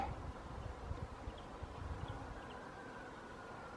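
A swarm of honey bees buzzing outdoors near hedges and trees, a soft, steady drone that stays faint and constant throughout.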